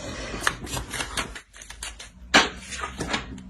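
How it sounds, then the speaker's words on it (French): Tarot cards rustling and being laid down onto a spread, a busy run of soft papery shuffles and slides with a sharper snap midway, close and fairly loud. "On va rajouter une carte."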